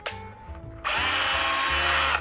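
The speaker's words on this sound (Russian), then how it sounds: "Перфоратор работает от одного аккумулятора CXT." A Makita HR166D cordless CXT rotary hammer starts with a brief low whir, then runs at full speed as a loud, steady, high-pitched drilling drone for the rest of the moment, with no talk.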